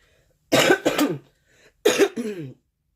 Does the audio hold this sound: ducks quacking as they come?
no